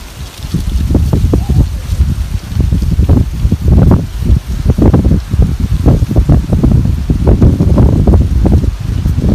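Strong wind gusts buffet the microphone outdoors at a Halloween yard haunt display, producing continuous rough rumbling bursts with no clear speech.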